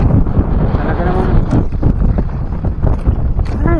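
Strong sea wind buffets a small fishing boat, a constant loud rushing roar against the microphone with the hull and water churning beneath, and someone talks close by over it.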